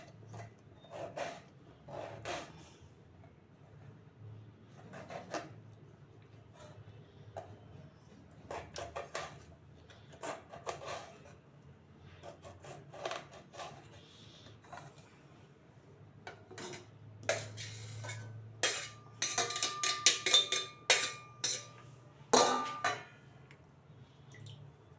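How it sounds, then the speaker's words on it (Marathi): A knife cuts tomatoes on a board in irregular, quiet taps and soft slices with pauses between, followed near the end by a quicker, denser run of cuts. "टमॅटो आपण इकडे कापून घेऊ."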